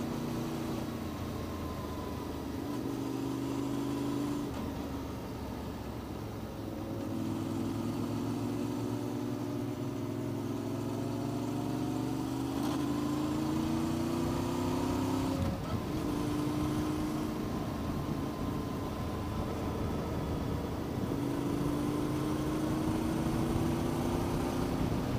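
A motorbike engine runs during a ride out, a steady mid-pitched hum with gear-like pitch shifts rising and falling, moderately loud and continuous with wind noise and no speech.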